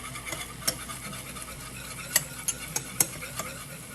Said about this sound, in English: Give this all a whisk.